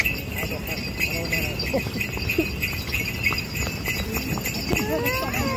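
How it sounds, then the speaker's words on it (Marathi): Horse pulling a cart on the beach, hooves clip-clopping steadily under a loud wash of wind and surf, with people talking throughout. "आता आम्ही घोडा गाडीवर बसलो आहोत"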